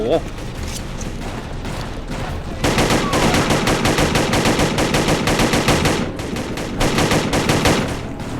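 Sustained machine gun fire in the video game ÜberSoldier, dense rapid bursts that run loud and continuous for several seconds, pause briefly, then resume, with a player's voice talking over the shooting.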